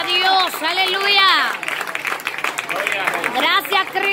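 A church congregation applauds during an evangelical preaching service, the clapping running under loud, sustained voices that call out and sing over it.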